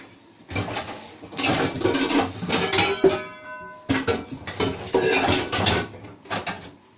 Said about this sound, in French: il faut que je prenne une casserole